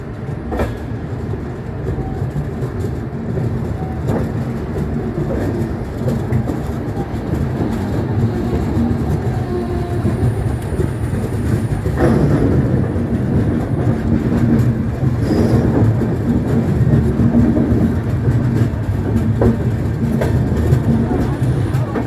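Shalimar Puri weekly superfast express running from Kolkata toward Puri, late at night near Khurda Road Junction: continuous close rumble and rattle of the moving coach with track clatter, swelling louder midway, faint voices now and then.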